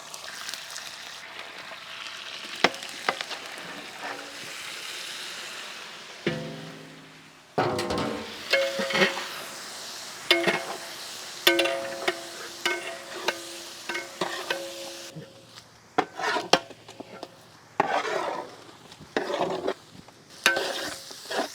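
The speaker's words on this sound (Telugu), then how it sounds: "నూనెలో అల్లం వెల్లుల్లి పేస్ట్ చక్కగా వేగాక దీంట్లోనే మనం పచ్చిమిర్చి యాడ్ చేద్దాం" Ginger-garlic paste fries in oil as green chillies are stirred in, gentle sizzling broken by frequent spoon clinks and scrapes against the pan.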